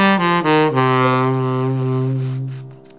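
A sustained low instrumental minor chord rings out while a quick minor pentatonic run from the same root plays over it at the start, then the chord slowly fades.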